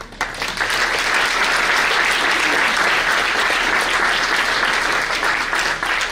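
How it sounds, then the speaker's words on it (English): Audience at a Student Voices 2018 school recognition event bursting into sustained, dense applause, steady and loud throughout with no talking. "And then let's applaud them."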